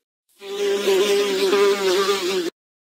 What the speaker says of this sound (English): Don't let the fly land on your food.